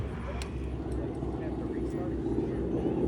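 T-6 airplane engine during a low aerobatic demonstration, a steady droning rumble heard from the cockpit with someone talking over it.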